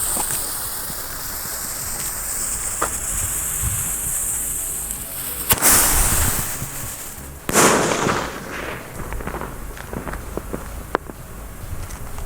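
Aerial bomb firecrackers burst outdoors, two loud sharp explosions several seconds apart with crackling decay, amid background hiss and a few faint pops.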